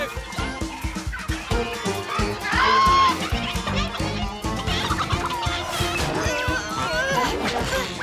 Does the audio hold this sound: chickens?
yes